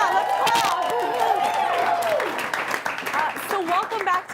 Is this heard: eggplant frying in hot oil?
no